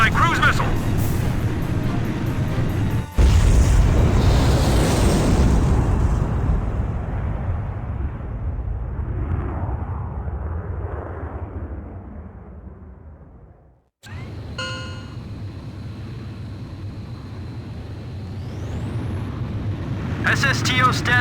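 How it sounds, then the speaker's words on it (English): A cruise missile strikes a mass driver in the video game Ace Combat 5: one sudden, loud, close blast, then a long rumbling decay that fades over about ten seconds, with engine drone and game sounds after a brief gap. "Mass driver hit by cruise missile"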